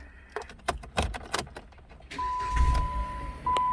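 Keys jingle and clicks sound in a car before the engine turns over at about two seconds and settles into a low, steady idle, with a warning chime beeping.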